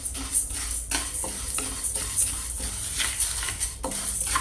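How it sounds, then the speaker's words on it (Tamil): Horse gram and toor dal dry roasting in a pan, with steady scraping and stirring strokes and light rattling of the dry grains against the metal, close and continuous without talk. "இப்போ நாம் எடுத்து வச்சிருந்த கொள்ளு, துவரம்பருப்பு ரெண்டுத்தையும் ஒன்றா போட்டு நம்ம வறுத்துக்க போகிறோம்."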